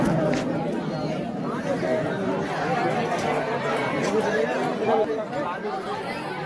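Dense crowd chatter fills the steps of Barsana Dham temple, a steady, loud babble of many overlapping voices close around the listener, with pilgrims pressing and climbing.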